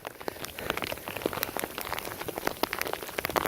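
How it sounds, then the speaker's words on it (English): Hail pelting climbers high on Chimborazo in Ecuador, a dense, steady patter of small icy impacts ticking and clattering close by, with no voices over it. "There's already hail falling on you, and that's hurt."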